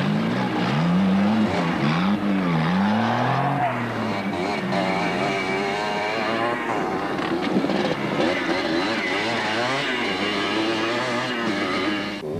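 Off-road race vehicles and quads driving through a dry riverbed at the 1998 Caledon 400, engines droning and revving loudly and steadily, shifting pitch as they pass.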